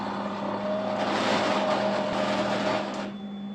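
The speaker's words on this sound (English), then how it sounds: "An equal volume of sodium hydroxide is added to the sputum sample, mixed on a vortex mixer to emulsify." A vortex mixer emulsifies a sputum sample with sodium hydroxide in a lab, giving a loud, steady buzzing whir for about two seconds over a constant background hum before it stops.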